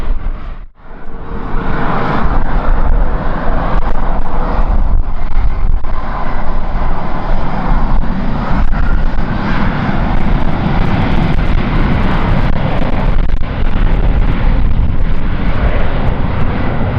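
A Japan Air jet airliner takes off from runway 34 at Kagoshima in heavy, gusting wind, its engines a loud, sustained broadband roar that holds steady throughout, with no voices.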